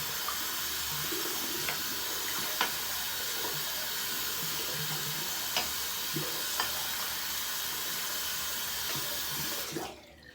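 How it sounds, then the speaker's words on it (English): Steady running tap water splashes into a soap bowl at a sink during a wet shave, a constant close hiss with faint knocks and clinks, cutting off abruptly near the end. "Rinse out the bowl and the soap"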